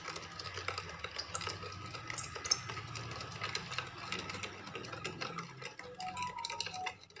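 Lassi of curd and fruit being mixed in a bowl or jug, a steady busy rattle of a spoon or whisk clinking and stirring close up, continuous throughout.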